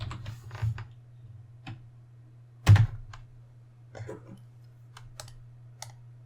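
Typing on a computer keyboard while naming a layer in animation software: a few scattered clicks and one loud thunk-like keystroke, close and dry, with quiet gaps between and no talking.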